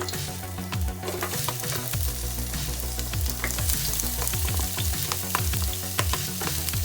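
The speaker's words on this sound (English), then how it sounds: "first we're gonna go ahead and put some onion in here." Onion sizzles in olive oil in a pot, with a loud continuous frying hiss and frequent crackles and scraping stirs close by.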